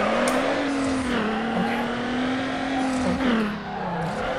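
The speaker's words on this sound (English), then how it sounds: "I need to focus on drifting here." A Subaru drifts in the racing game Need For Speed Underground, its engine holding a loud, continuous droning rev that swells and dips slightly as the car slides through a turn, with a faint hint of tire noise.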